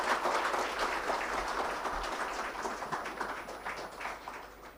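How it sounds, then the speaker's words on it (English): An audience at a livelihoods conference applauds the panelists, a continuous wash of many hands clapping that stays steady and gradually tapers over about five seconds. "Let's give them a rousing applause once again"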